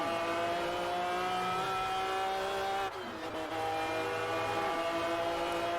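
A stage 3 tuned Saleen S7 supercar engine in the racing game Test Drive Unlimited holds a high, tonal whine, dips briefly as if shifting gear, then climbs again.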